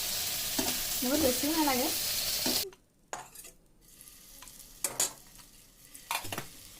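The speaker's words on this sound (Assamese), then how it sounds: "এতিয়া আমি এইখিনি ফ্ৰাই কৰি লওঁ। ইয়াত আমি অলপতে তেল দি লৈছোঁ" Paneer pieces frying in oil in a pan for restaurant-style chilli paneer, with a broad hiss of sizzling and scattered clinks of stirring and utensils. A person speaks briefly near the start, then the frying continues more quietly with occasional sharper scrapes.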